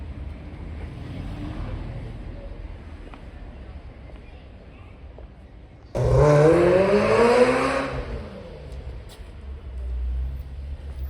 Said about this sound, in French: Wow, la 348 qui accélère.